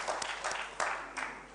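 Applause from an audience welcoming a poet at a Punjabi literature festival: a short burst of scattered clapping.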